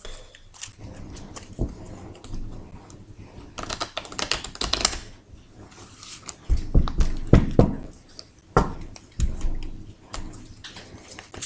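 Tarot cards are shuffled by hand, giving scattered quick riffling and slapping bursts with soft knocks, close and fairly quiet, no voice.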